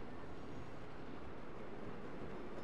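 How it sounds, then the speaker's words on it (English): A train rumbling past in the Saints Row video game, a low continuous roar of steady level with no voices over it. "Hell of a time for a train."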